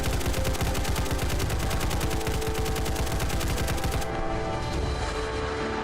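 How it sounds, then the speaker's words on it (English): Rapid automatic fire from an AK rifle upgraded into an advanced RPK in a shooting video game, a loud sustained burst that stops abruptly partway through, leaving a lingering rumble. "How about an AK that's been upgraded into an advanced RPK?"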